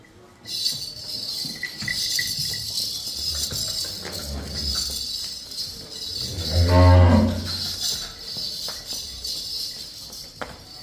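A cow gives one deep, drawn-out moo nearby at a cattle farm, rising above a noisy outdoor background with faint rustling and distant activity.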